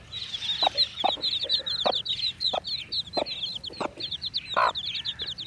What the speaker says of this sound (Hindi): ये हमारी दूसरी मुर्गी है,